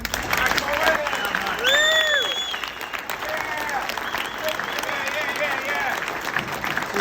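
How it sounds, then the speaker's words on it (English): An audience at the Sturgis Hall of Fame lifetime achievement award ceremony gives loud, sustained applause with a few shrill whistles rising above it, and people are heard speaking through the clapping. "you can stand up and cheer him right off the stage"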